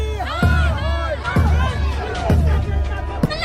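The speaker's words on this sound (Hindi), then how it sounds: "देख रहा छियै लोग सबका बहुते भीड़ यौ" A large gathered crowd in a village setting, with steady babble and overlapping shouts and chatter throughout, fairly close and loud, with a few sharp louder exclamations standing out.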